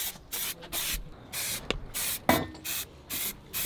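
Spray painting car parts inside a temporary spray booth: short hissing bursts of the spray gun, roughly eight of them, starting and stopping in a regular rhythm with brief pauses between passes.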